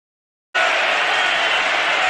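A crowd at an NBA game reacting to Giannis Antetokounmpo, a sudden dense roar of noise bursting in after silence and holding loud and steady to the end.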